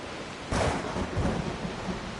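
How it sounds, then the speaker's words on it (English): Thunderstorm at sea in the video game Assassin's Creed Odyssey, a sudden loud roll of thunder bursting over steady rain noise, then rumbling on and fading slightly, with no voices. "We are headed into a storm!"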